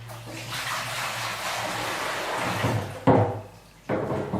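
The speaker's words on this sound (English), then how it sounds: "It calls for 5 quarts of water, so we're going to put this in the bucket" Five quarts of water gush steadily into a bucket for mixing self-leveling concrete, a continuous splashing rush, followed by a couple of hollow knocks and clunks near the end.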